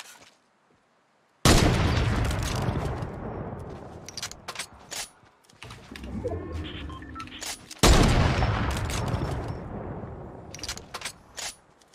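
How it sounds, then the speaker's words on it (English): Shotgun blasts in the video game Fortnite, two loud booming shots several seconds apart, each trailing into echoing fire and scattered gunshots with some quieter game noise in between. "I think you shot him 7 different times with your shotgun."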